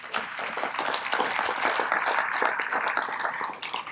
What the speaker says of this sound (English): And clap, y'all